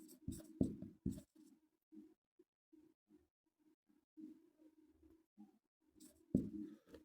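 Chalk or marker scratches across a board in short, faint strokes and taps, pausing and resuming irregularly as a Hindi-speaking teacher writes out grammar on it, quiet and close.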